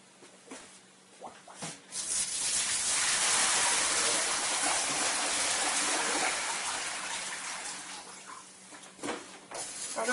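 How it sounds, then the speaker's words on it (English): Water is emptied from a bucket after a cleaning rinse of a Kangen SD501 water machine pump, a broad splashing gush that swells for several seconds and tapers off, with a few clunks at the start and end and no talking. "So I'll just empty the bucket."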